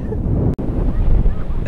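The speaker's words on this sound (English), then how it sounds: "Dude, look at the waves." Ocean waves crash on a windy beach in a continuous loud roar of surf, with heavy wind buffeting the microphone almost throughout and one brief dropout.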